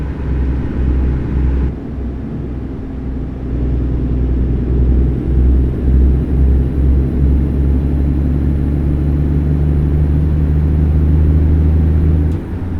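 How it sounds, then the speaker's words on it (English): Truck engine in American Truck Simulator, a loud steady low rumble with the revs briefly rising between gear shifts, heard alone without talk. "but between shifts it kind of revved up"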